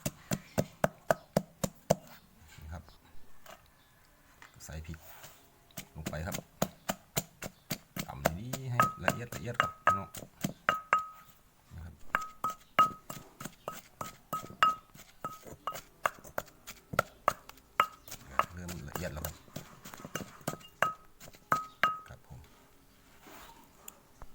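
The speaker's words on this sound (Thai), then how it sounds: "โขกให้ละเอียดครับพี่น้อง" Kaffir lime leaves are pounded finely in a mortar, a long series of sharp, rhythmic thuds and knocks in quick bursts with brief pauses, close by, with someone talking at times between strikes.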